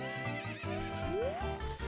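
A horse from the video game The Legend of Zelda: Ocarina of Time gives a single rising whinny over steady in-game background music, with faint clip-clop.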